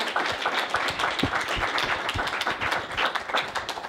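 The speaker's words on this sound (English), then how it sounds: "let's run a round of applause for Mr." Applause from a seated audience at a London music-industry talk on reputation management, a dense patter of clapping that holds steady throughout without speech.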